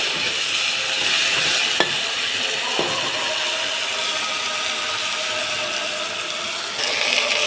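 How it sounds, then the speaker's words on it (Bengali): Cauliflower florets frying in hot oil in a wok (kadai) after cumin tempering, a bright continuous sizzle with a couple of sharp clinks from stirring, close and steady, no voices. "এখন কপিগুলো ভেজে নেব।"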